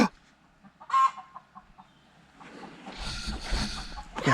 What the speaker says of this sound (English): Got a chicken laying an egg.